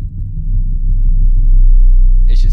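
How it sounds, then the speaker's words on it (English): Distorted, rolled-off 808 bass for a beat, a loud, thick, rumbling low sustain with a rolling pulse, a brief higher hit at the very end. "It's just kind of like a rolly 808, like a distorted one that's like rolled off."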